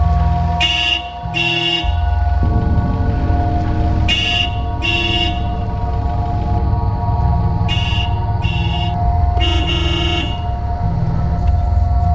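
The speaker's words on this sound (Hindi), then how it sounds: "कब से हॉर्न बजा रहा हूँ, जल्दी नहीं आ सकता क्या?" A car horn honks in short repeated bursts, two quick blasts, then pairs again around four and eight to ten seconds, loud and close over a steady engine and street hum in a crime drama scene.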